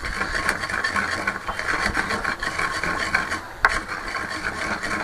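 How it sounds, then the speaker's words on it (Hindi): Whole wheat grains rubbed by hand to strip their husks, giving a steady, continuous gritty rasping scrape at close range with one brief louder scuff near the end. "मैं हल्का सा ना ऊपर से रगड़ाई कर रही हूँ इसकी, ताकि ये ना ऊपर से छिलके उतरें।"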